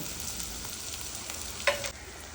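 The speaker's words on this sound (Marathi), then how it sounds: "दोन मध्यम आकाराचे बारीक चिरलेले कांदे घाला कांद्याला लालसर रंग येईपर्यंत आपण भाजून घेऊया" Finely chopped onions sizzle in oil in a pan for stuffed okra masala, a steady close frying hiss with one brief sharp clink of a utensil near the end and no talking.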